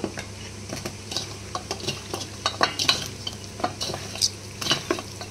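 Chicken pieces are hand-mixed with ginger-garlic paste and rice flour in a bowl, making intermittent close squelching and soft clinking taps against the dish.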